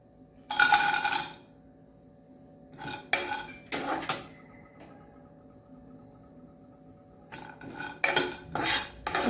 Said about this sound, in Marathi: तर मी आता कढईमध्ये खोबरं भाजून घेणार आहे.